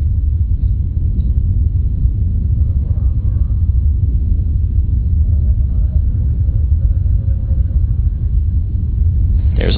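Soyuz TMA-08M rocket engines during launch, a loud, continuous deep rumble that holds steady throughout, with a brief burst of noise at the very end.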